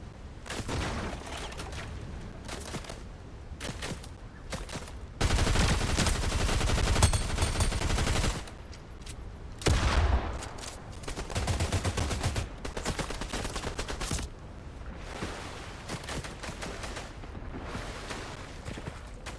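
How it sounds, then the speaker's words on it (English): Suppressed machine gun fire in the Fortnite video game, rapid muffled bursts in several separate strings of different lengths, with short gaps and quieter stretches between them. "Suppressed machine gun."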